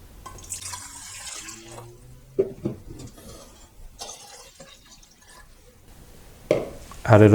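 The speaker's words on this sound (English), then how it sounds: "Added a 2 liter of water." About two liters of water go into a metal pot for steam distillation of dry witch hazel leaves: intermittent splashing and trickling with faint clinks, quiet pauses between, and a louder gush near the end.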